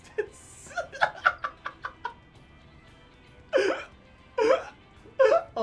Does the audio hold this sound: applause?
no